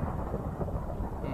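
Thunder rolls in a Minecraft game world, a deep sustained rumble with faint rain beneath it, moderately quiet and steady.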